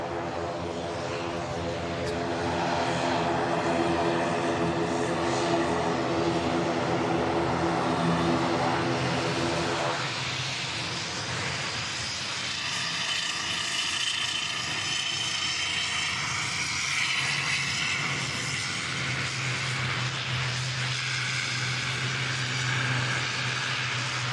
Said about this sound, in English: Loganair ATR 72. These are the kind of fans you need in your bedroom.